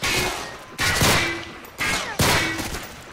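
Gunfire in a Modern Warfare 3 co-op mission: four loud, close bursts of shots at roughly regular intervals, each trailing off into a short echo.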